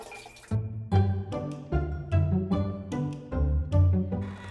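Liquid waste glugging and splashing out of a motorhome toilet cassette as it is tipped and emptied, a loud close pour surging in uneven bursts for several seconds.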